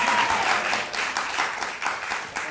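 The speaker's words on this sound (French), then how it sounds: "Je vous demande de l'applaudir très très fort." An audience at a stand-up comedy show applauds a contestant, dense sustained clapping that starts loud and stays steady throughout, filling the room with no voice over it.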